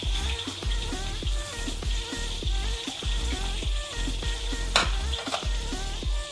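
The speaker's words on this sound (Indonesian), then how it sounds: "Sembari kita menunggu keladinya masak yang kita goreng" Taro fries in hot oil with a steady, crackling sizzle, while rhythmic thuds from a pestle pounding in a stone mortar repeat nearby.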